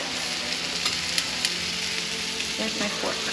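Eggs frying in a pan for a breakfast crunch wrap, a loud steady sizzle with crackling pops close up.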